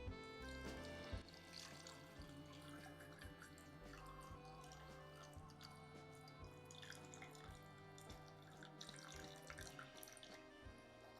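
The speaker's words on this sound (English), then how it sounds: "water is going in." Water runs steadily into a freshly plugged-in setup built around 100-year-old rare wood, a quiet continuous trickle and splash with faint drips, close and soft throughout with no talk.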